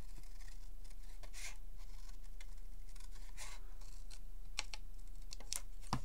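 Scissors cut paper along a drawn line in a series of soft, close snips and rustles over a low steady hum, with no one talking.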